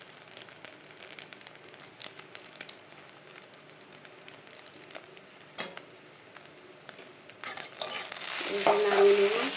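Maggi noodles with egg being stirred in a frying pan, soft scraping and clicking strokes under a gentle sizzle, which swells into a loud crackling fry over the last couple of seconds.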